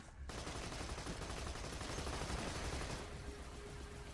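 Rapid, continuous gunfire in Borderlands 2, a steady dense rattle of shots with no breaks, heard faintly and on its own.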